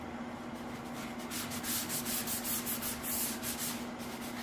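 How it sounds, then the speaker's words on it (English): A sanding block rubs the edge of a PVC panel for car upholstery work in quick, even back-and-forth strokes, about a dozen close scratchy swipes over a low steady hum. "Right now I'm going to use one of these sanding blocks, and what I want to do is get this edge really good"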